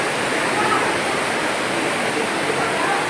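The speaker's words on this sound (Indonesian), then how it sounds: "saya baru melihat kali ini ada sungai di bawah tanah ya" Underground river inside Jatijajar cave, a steady full rush of flowing water echoing continuously without pause, close and fairly loud.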